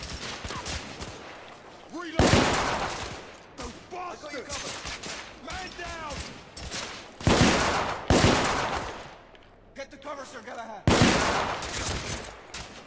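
Bursts of gunfire in The Order: 1886 come in loud irregular volleys with sharp shots between them, mixed with shouting voices and combat clatter.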